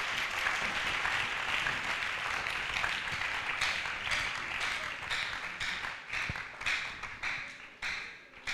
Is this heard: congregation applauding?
yes